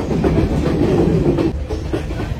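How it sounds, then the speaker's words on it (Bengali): A passenger train runs on the hill line between Nuwara Eliya and Ella in Sri Lanka, its steady loud rumble and wheel clatter filling the whole stretch with no talk. "তো ট্রেন চলা শুরু করে।"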